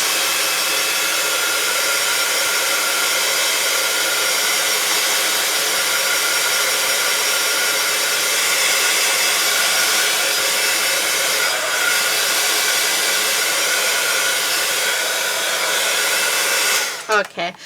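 Hair dryer blasting a wet stamped paper card, a loud steady whooshing roar that runs almost without change before clicking off abruptly at the end.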